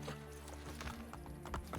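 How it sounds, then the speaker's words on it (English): Horse hooves clip-clop in the Assassin's Creed Brotherhood video game, a quick run of hoofbeats with a brief whinny, soft and mixed with game ambience. "I'm trying to ride the horse all the way around."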